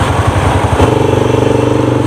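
An electric sports motorcycle passes close by on a city road, producing a loud steady rumbling drone with a rhythmic pulsing tone.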